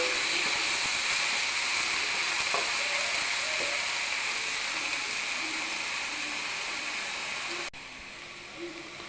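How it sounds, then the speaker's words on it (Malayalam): Tomatoes and green chillies sauté in a hot pan with a steady, close hiss that holds for nearly eight seconds, then drops to a quieter sizzle. "തക്കാളി ഇട്ട് പച്ചമുളക് ഇട്ട് കൊടുക്കുകയാണ്. നല്ലതുപോലെ ഒന്ന് വഴറ്റിയിട്ട് എടുക്കുക."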